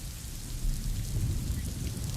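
Heavy monsoon downpour in the Mumbai–Pune region, a dense continuous hiss of rain with a deep rumbling low end, loud and unbroken for a couple of seconds with no voices.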